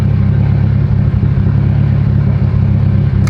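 Mitsubishi Evo 8 engine idling loud and rough, a steady deep low rumble with an uneven pulsing note that holds constant without revving.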